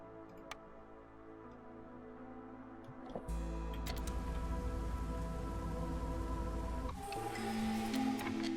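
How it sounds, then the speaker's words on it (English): Light drizzle patters in the video game Against the Storm, a soft steady rain layered with ticking interface clicks and faint tonal game music, swelling louder midway with no voices. "we are back in the drizzle"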